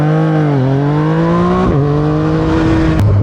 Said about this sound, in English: to use launch control, you simply just have to be not moving, first gear, and you just give it throttle like that, and then you just go